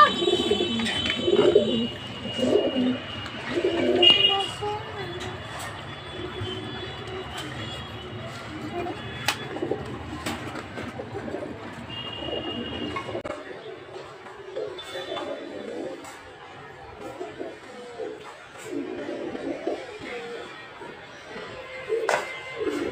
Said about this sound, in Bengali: ব্যালকনিতে কবুতরের বাচ্চা হয়েছে